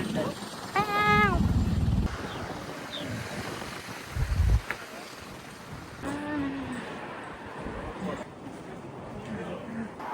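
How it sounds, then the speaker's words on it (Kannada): Strong wind gusts outdoors on a road trip in Australia, a rough rumbling buffeting that runs throughout underneath a person talking. "ನೀವೇ ನೋಡಿ ಗಾಳಿ ಎಷ್ಟು ಬರ್ತಾ ಇದೆ ಅಂತ"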